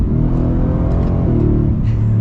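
A Ram TRX or Ford Raptor R pickup truck engine revs loudly and steadily, pitch shifting as it downshifts, heard close up without talk.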